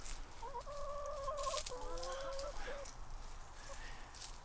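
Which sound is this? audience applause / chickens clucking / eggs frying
chickens clucking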